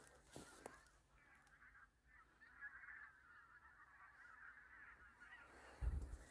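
A flock of migrating geese honks continuously in the distance during a goose hunt, a faint chorus of overlapping calls, with a thump near the end.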